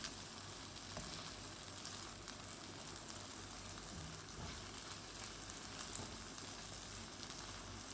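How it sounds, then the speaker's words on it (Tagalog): Eggs fry and get stirred in a hot pan, giving a steady, even sizzle and crackle with faint scraping, fairly quiet and close with no talking. "Halo-haloin lang natin para maluto ang ating itlog, ating eggs."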